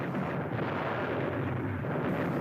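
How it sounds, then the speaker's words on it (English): Naval ships firing point-blank on German positions during the D-Day landings, heard as a continuous heavy rumble of gunfire and blasts merging into a dense, loud roar with no clear gaps between shots. "Ships moved in closer and pounded the German positions with point-blank fire."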